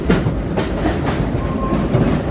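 A tour train at Silver Dollar City theme park rolls along steadily with a continuous rumbling clickety-clack of wheels on rails, heard up close with no talking.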